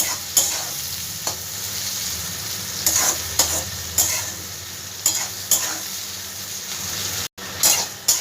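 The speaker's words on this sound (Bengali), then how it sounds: "ভালো করে একটু ভেজে নেব পেঁয়াজটা।" Sliced onions and three or four chopped red chillies fry in a pan for a Bengali morola fish curry, giving a steady close sizzle broken by repeated scraping stirs at irregular intervals.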